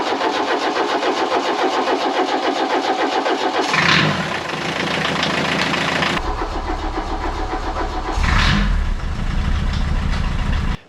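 A Volkswagen Rabbit's 1.6 liter diesel engine runs with a loud, close clatter, briefly revving twice, and its tone shifts partway through before it cuts off abruptly at the end.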